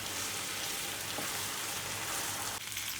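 Minced meat (qeema) mashed and fried in a pan, a soft, continuous sizzling hiss with a faint scrape or two from the utensil, fairly quiet and close, no talking.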